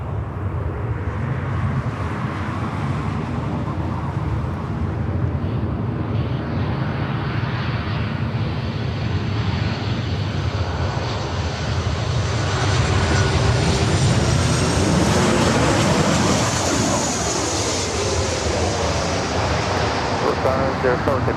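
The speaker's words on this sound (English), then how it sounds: "Got that Delta 737 up next, coming in from SFO." A Delta Boeing 737 airliner landing at Los Angeles International Airport, its engine roar building steadily and loud over about twenty seconds, mixed with strong wind noise and broadband rumble.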